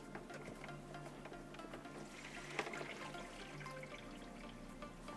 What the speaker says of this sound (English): when I open up this valve, because the piping is already primed, it should start siphoning on its own